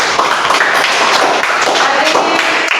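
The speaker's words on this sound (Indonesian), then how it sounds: "Oke, tepuk tangan untuk kelompok 2." Classroom applause for a student group after their presentation, a dense continuous patter of many hands clapping steadily at close range for a few seconds.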